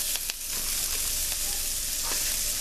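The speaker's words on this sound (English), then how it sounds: "What I've got here is half a small onion and some yellow peppers and red peppers. We're going to go ahead and throw that in there." Half a small onion with yellow and red bell peppers sizzling loudly in a hot cast iron skillet, a steady dense hiss with a few soft stirring knocks, with no talk.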